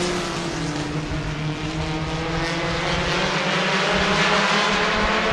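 4-cylinder race cars running on a dirt track, their engines a loud, continuous roar that fills the whole stretch with steady droning tones and no break.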